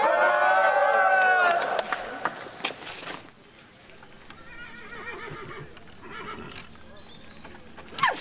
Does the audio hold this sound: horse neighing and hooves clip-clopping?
yes